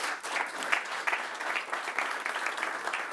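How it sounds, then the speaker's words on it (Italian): A crowd claps continuously for a few seconds, steady applause from an indoor audience. "Facciamo un applauso"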